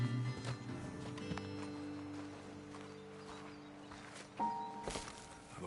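Horses walk at a slow pace in Red Dead Redemption 2, an uneven series of soft hoof clip-clops on ground, with faint rustling around them.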